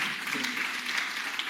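A church congregation applauds and cheers for the Lord, a dense, continuous wash of clapping and voices that stays steady and full for the whole moment.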